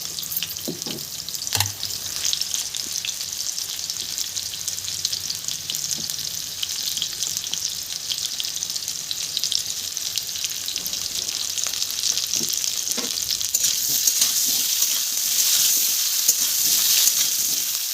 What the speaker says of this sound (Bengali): তো চলো আগে ভালো মতো নেড়ে চেড়ে ভেজে নিই। আলুগুলো ভাজা কমপ্লিট হয়ে গেছে।